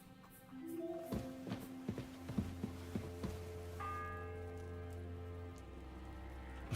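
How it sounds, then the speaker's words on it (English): A church bell tolls repeatedly in a medieval village in Kingdom Come Deliverance II, a series of resonant strikes with lingering hum, set over soft rain-like ambience and a faint background melody. "The fourth bell."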